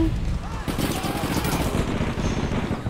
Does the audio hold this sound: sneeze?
no